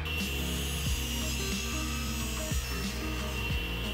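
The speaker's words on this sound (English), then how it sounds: "These full-length boards I'm ripping into strips here are for that ledge that runs all the way around the bed frame" Full-length 2x4 wooden boards ripped lengthwise into strips on a saw, a steady close rasping cut with a low motor hum and occasional knocks and shifts of the wood, no talking.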